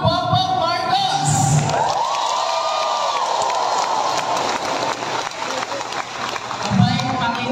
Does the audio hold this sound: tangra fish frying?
no